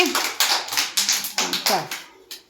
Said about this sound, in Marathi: छान टाळ्या वाजा सगळ्यांनी